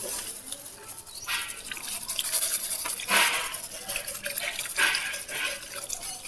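Seed-treatment liquid is shaken and sprinkled over soybean seeds, giving soft, irregular watery swishes and rattles that rise and fall across several seconds, heard close and alone.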